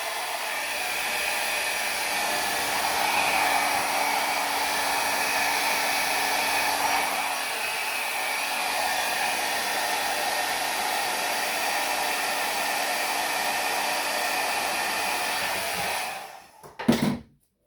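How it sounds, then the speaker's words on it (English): A small Amika hair dryer blows steadily at close range for about sixteen seconds, then cuts off, followed by a brief clunk or handling noise. "I have this cute little Amika hairdryer that I just love."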